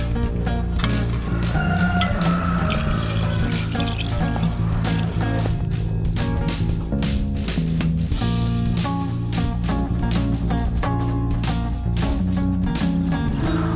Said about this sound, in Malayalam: 1 ലിറ്ററിൻ്റെ കപ്പിൽ 3 കപ്പ് വെള്ളം നമുക്ക് ചേർത്ത് കൊടുക്കാം